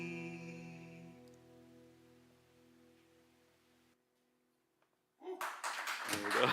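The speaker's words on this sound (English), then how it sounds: "I've played to less folk clapping than that." A small audience of just a few people claps loudly and briefly after a pause that follows a soft sustained musical tone fading out.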